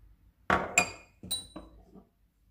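Spices, salt and cornflour being mixed in a bowl: a few sharp clinks and taps of utensil against the bowl, closely spaced near 0.5 seconds and again near 1.3 seconds, then softer scraping, with no talking.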